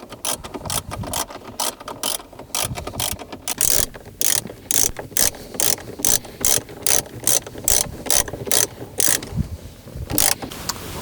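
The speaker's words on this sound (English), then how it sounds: "We're going to go ahead and reinstall the 4 bolts." A hand ratchet tightens the four bolts holding a Toyota 4Runner head unit, its repeated clicking pawl coming in quick, even bursts, close and clear, with no talking.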